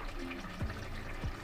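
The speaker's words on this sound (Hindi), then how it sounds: "1 kg राइस है तो 3 ग्लास हम पानी डाल लेंगे।" Water being poured into a pot of biryani rice while cooking, a brief splashing, gurgling pour with two short sloshing swells, fairly close and moderately loud.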